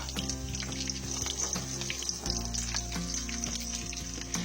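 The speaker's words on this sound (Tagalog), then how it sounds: "Umpisan na nating maggisa ng bawang." Garlic sautéing in a pan while cooking milkfish, a close, steady crackling sizzle with faint stirring scrapes and a low hum underneath, no talk.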